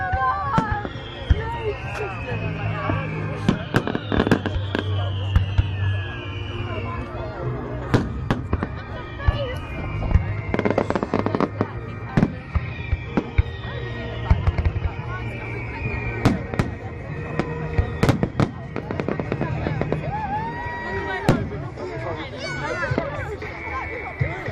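Fireworks display at Blackheath in 2009, with repeated sharp bangs and crackling bursts scattered irregularly throughout, heard amid a murmuring outdoor crowd and nearby chatter.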